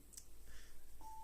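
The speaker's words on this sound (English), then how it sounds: "it's the high-pitched beep" Single high-pitched electronic beep on a dictaphone recording, a steady tone starting near the end and held over faint background hiss, with no voices.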